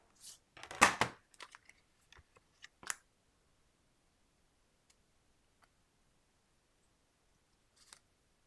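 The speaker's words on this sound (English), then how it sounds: "as I'm die cutting here" Paper being die cut for crafts: a quiet cluster of clicks and rustling in the first few seconds, then sparse, faint ticks with long silences and one last small click near the end. No voices.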